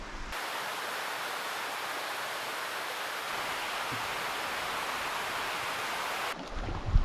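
Wind blows steadily across Rawhide Lake, a large open lake in the Ontario wilderness, as an even, broad rushing hiss that holds for several seconds before a few louder gusts buffet close at the end.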